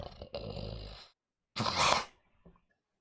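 A human voice imitates a dragon wormling growling, giving two rough, throaty growls separated by a pause, close and fairly loud, followed by a short grunt.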